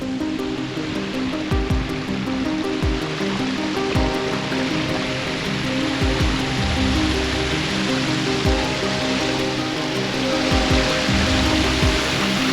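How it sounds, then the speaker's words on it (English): A waterfall roars steadily on a Peak District moor while rain comes down, making a continuous broadband rush close by with faint thuds and knocks underneath. "I'm actually stood in a waterfall."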